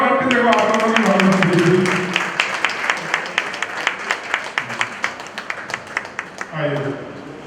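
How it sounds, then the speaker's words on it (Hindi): At a Jain temple ceremony during Anant Chaturdashi, a small gathering claps in a loose rhythmic burst, individual claps distinct and fairly close, with someone speaking loudly before and after the clapping. "तालियां बजा दो आपके, देखो आप लोगों की भावना"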